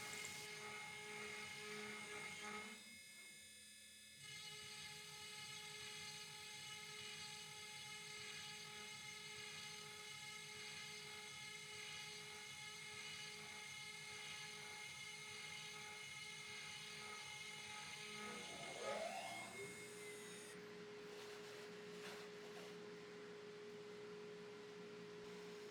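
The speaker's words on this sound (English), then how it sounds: "I could have drilled these manually, but it's just great insurance to let the machine do it" A machine drills dowel holes in wooden bassinet parts, producing a faint, steady high-pitched whine with a rhythmic pulsing underneath, briefly dipping early on and shifting pitch near the end.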